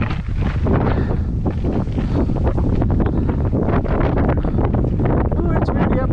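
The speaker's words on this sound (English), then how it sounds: "Ooh, it's windy up here." Strong wind on a hilltop buffeting the microphone in a continuous roar, with a low rumble underneath throughout.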